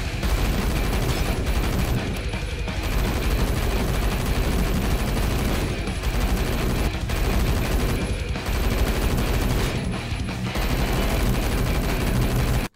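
Rapid automatic gunfire from an HK rifle with armor-piercing rounds in the Roblox shooter Phantom Forces fills the whole stretch, dense and loud, broken only by a few brief pauses.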